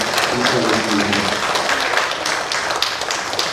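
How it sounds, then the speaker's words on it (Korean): A church congregation claps in a steady, dense burst of applause that carries on throughout, with faint voices mixed into the noise. "우리 인사하고 들어가실 때 큰 박수로 축복해 주시면 감사하겠습니다."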